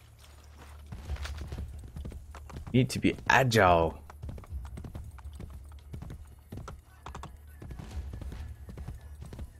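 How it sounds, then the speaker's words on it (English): Steady clip-clop of horse hooves trotting in the video game Assassin's Creed: Brotherhood under a person talking, with a brief neigh-like whinny partway through. "Spawn a horse, please."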